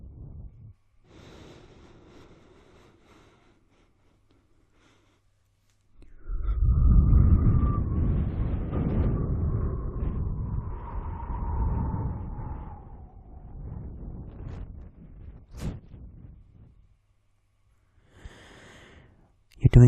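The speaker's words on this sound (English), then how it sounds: "So again, just breathe in." A long, deep, breathy inhalation during a guided relaxation exercise, close and soft, followed by quieter breaths and a brief pause.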